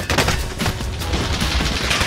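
Rapid bursts of automatic gunfire crackle in a video game shootout, dense overlapping shots from more than one weapon filling the whole stretch at close, loud range.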